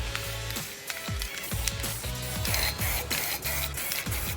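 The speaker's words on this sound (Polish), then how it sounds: "Czarny spray." A can of black spray paint gives a close, steady broadband hiss with a faint rhythmic pulsing underneath, and no voices.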